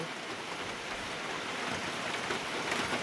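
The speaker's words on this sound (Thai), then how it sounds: "ฝนตกอีกแล้วพี่น้อง" Rain falls steadily onto surfaces, a soft, even patter heard alone and fairly quiet throughout.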